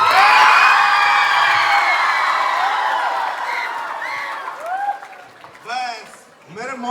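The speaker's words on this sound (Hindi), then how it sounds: "अब एक बार जोरदार ताली बजाओ" A room of children claps loudly and cheers, the burst of applause mixed with excited shouting and whoops that fade into scattered high-pitched calls and voices.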